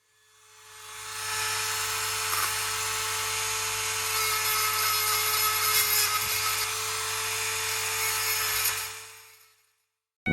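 A small corded rotary tool cleans out holes in a slot car chassis with a steady high whine, close and continuous for several seconds before it stops.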